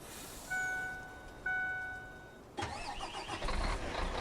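A farm truck cranks and turns over during a Pacific Northwest soybean harvest, a couple of short starter bursts followed by the engine catching and settling into a steady idle, close and fairly loud.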